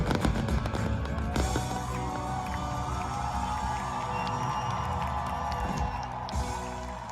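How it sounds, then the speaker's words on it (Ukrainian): A stadium concert crowd in Munich cheers and applauds Adele, with a dense, steady roar of clapping and shouting that stays loud and continuous throughout. "Фанати, здавалося, не хотіли відпускати її зі сцени і аплодували стоячи"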